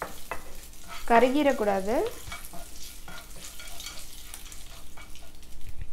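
Cumin seeds splutter in hot oil for a spinach paneer dish, a dense close crackle and sizzle. Someone speaks briefly over it.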